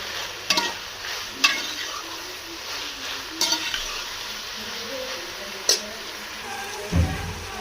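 Onions being fried in a pan for a home-style okra (bhindi) dish, with a soft steady sizzle and several sharp scraping clinks of a spoon stirring against the pan.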